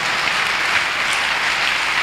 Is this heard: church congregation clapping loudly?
yes